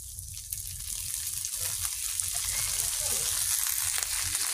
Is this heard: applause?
no